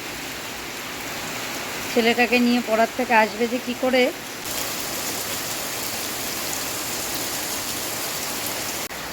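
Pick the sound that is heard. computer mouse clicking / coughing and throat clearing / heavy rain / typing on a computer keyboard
heavy rain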